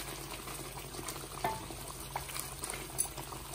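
Masala fries in oil in a pan for chicken tikka karahi, a soft steady bubbling sizzle with a few light scrapes and clinks of stirring, alone and fairly quiet.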